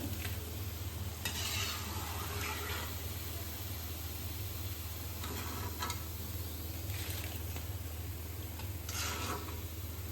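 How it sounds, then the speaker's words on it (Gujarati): Homemade Manchurian balls frying in a pan of oil give a steady, close sizzle throughout, with a few louder bursts of bubbling and stirring scrapes now and then. "મિત્રો અહીંયા આપણા છેલ્લી વારના મંચુરિયન આપણે ફ્રાય કરવા મૂક્યા હતા"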